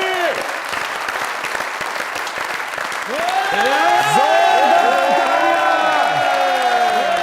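A studio audience on a comedy show applauds and cheers as a legendary Pakistani drama actress makes her entrance. The clapping is dense and continuous, swelling louder partway through, with voices and whoops mixed in.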